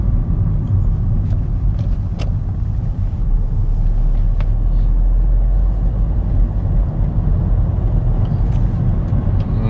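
A car drives steadily through the streets of Tauragė during a driving lesson on an exam route, its engine and road rumble a constant, loud low drone with a few faint knocks and no pauses.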